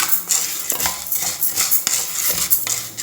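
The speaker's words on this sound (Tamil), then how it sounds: "எண்ணெய் விடாமல் நல்லா பொன்னிறமாக நல்லா வறுத்து எடுத்துக்கணும்" Urad dal dry-roasting in a pan without oil for idli podi, stirred with a metal spoon that scrapes and clinks steadily against the pan, close and moderately loud, with no talking.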